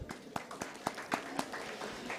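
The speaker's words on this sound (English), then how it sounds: "please round of applause for all of them" Conference audience applauding, a brisk run of sharp, evenly spaced claps that sounds like a few hands near by rather than a full crowd, fairly quiet and steady across the whole stretch.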